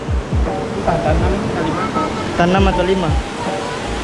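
The Langkuik waterfall in West Sumatra roars as a steady broadband rush of falling water, close and loud, under people talking over it.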